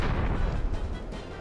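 Booming cannon fire from Warhammer: Dark Omen, a classic real-time tactics battle game, rumbles heavily and continuously for a moment, dense low blasts blending into one sustained roar.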